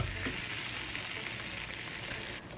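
Steady, loud sizzling of a burger patty frying in a pan, a continuous crackling hiss with no talking.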